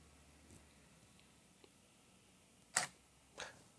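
A camera shutter fired by a NiSi Bluetooth remote at the end of a long exposure, two crisp clicks a moment apart after near silence, close and clear.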